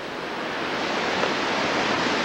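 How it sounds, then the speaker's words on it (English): A waterfall's steady broadband rush of falling water, even and fairly close, continuing without a break and with no voices. "There's another waterfall down there."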